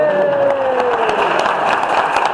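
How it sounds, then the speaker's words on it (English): A meeting crowd applauds first-time attendees, a steady wash of clapping throughout, with a tone sounding briefly at the start. "stand up so we could give you a round of applause."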